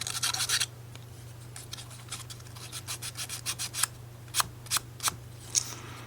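Sandpaper rubs the flat parts and crevices of a 3D wooden bookend model in quick rasping strokes, a short burst followed by a run of separate, evenly spaced scrapes close by.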